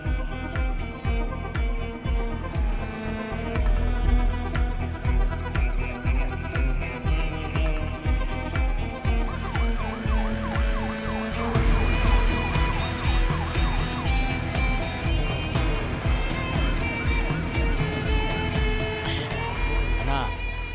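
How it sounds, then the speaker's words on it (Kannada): An ambulance siren wails steadily from a vehicle moving through the Kullambadi area, with its rising and falling tone running through the whole stretch beneath a dense, loud film score, with no speech over it. "ಕುಳ್ಳಂಬಾಡಿ ಏರಿಯಾದಲ್ಲಿ ಒಂದು ಆಂಬ್ಯುಲೆನ್ಸ್ ತುಂಬಾ ಹೊತ್ತಿಂದ ಓಡಾಡ್ತಿದೆ."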